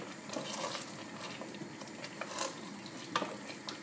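Meat and tomatoes frying in a pot for a Tunisian nwasser dish with lamb and peppers, giving a steady close sizzle with light stirring scrapes and small clinks throughout.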